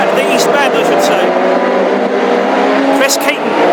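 Classic hot rod race cars roar past on the Hednesford oval, a loud, continuous engine drone with shifting pitch as they pass, under steady race commentary.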